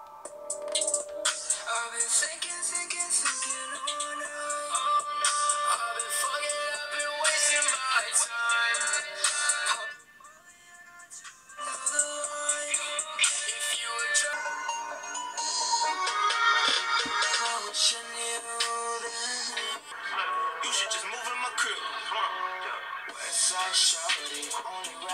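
Audio test played through the mono speaker of an Essential Phone, bright tinny music with a brief dip midway, steady and fairly loud, with no talking over it.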